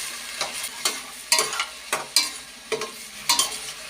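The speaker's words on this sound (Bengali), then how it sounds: "এখন শুটকি মাছটা আমি ভালো করে একটু কষিয়ে নেব" Dried fish being sautéed and stirred in a hot pan, with a rhythmic series of about ten scraping stir strokes over a steady sizzle, close and fairly loud, and no voices.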